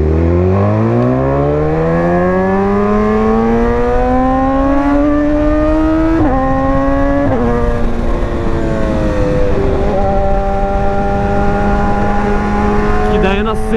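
A Honda NC 700X motorcycle accelerates hard along a highway, its engine note climbing steadily through the gears with brief dips at each shift, loud and close throughout with constant wind rush.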